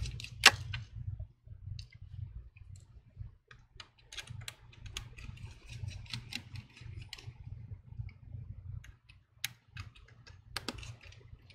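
Small clicks and ticks from a Y screwdriver turning tiny screws during an iPhone 11 screen replacement, faint, irregular and close, in a quiet room.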